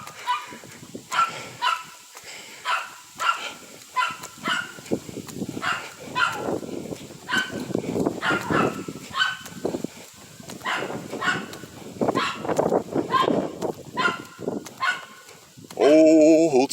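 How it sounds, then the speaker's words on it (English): A dog barks repeatedly in bursts on a walking path, its barks fairly close and recurring throughout while a voice talks and sings over it. "I mean you no harm, dog."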